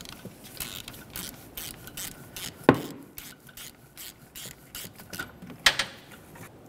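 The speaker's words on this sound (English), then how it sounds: "I'm going to start unscrewing it from the engine" A ratchet wrench unscrewing the oil pressure sender from a 2001-2005 Ford Explorer Sport Trac engine, rhythmic clicking strokes with a few sharper metallic scrapes, close and clear.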